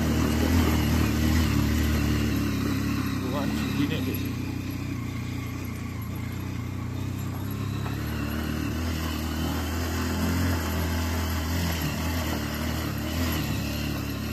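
Motorcycle riding along a mountain road toward Sandakpur, Ilam, in eastern Nepal, a steady mid-pitched engine drone with rumbling wind and faint rattles, continuous and even throughout.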